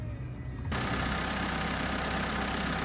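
A tractor engine idles steadily nearby with a low, continuous rumble that grows fuller after a moment and holds evenly to the end, with no talk over it.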